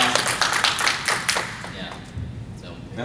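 Convention panel audience clapping in a busy burst that fades after about two seconds, with a voice speaking over it.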